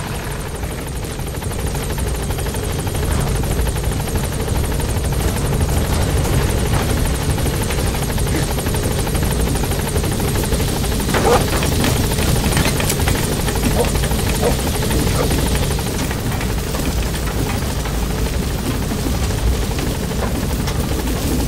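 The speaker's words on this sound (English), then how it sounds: "Support helicopter has arrived." A helicopter's rotor thrums steadily and loudly throughout, a constant whirring drone with faint engine whine on top.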